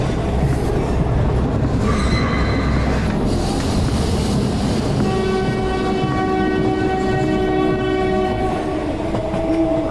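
A train runs steadily at night, a continuous rumble of rolling wagons with faint wheel clatter, and a sustained horn-like tone enters partway through and holds to the end.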